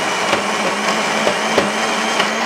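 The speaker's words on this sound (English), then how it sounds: "So we're going to use the old standby, the Hamilton Beach blender." A Hamilton Beach blender runs steadily with a loud, even motor whine, with a few soft knocks from soaked medjool dates and macadamia nuts tumbling inside the jar.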